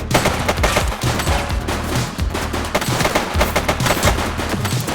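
Sustained automatic gunfire in The Precinct, a police video game set in a gang showdown, with dense rapid bursts and overlapping shots rattling continuously at close range.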